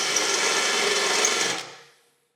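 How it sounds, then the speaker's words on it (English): A countersink bit cutting into metal on a leg brace for a restored Champion Midway No. 71 forge whirs steadily and loudly up close, then winds down and stops near the end. "This countersink tool will create the countersink."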